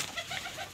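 A male Australian pigeon cooing, one short, soft, low coo heard faintly.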